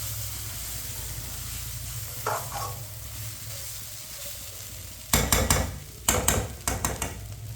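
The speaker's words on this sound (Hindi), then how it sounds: "आप देख सकते हैं गाजरें डाल के मैंने 4-5 मिनट के लिए पका ली है।" Grated carrots for gajar halwa sizzle softly in a pan with a steady frying hiss. Several loud, quick scraping stirs come near the end.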